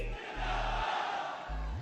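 A crowd at a political rally chanting slogans, a loud massed roar of voices swelling and falling in short bursts, with deep rhythmic thumps underneath.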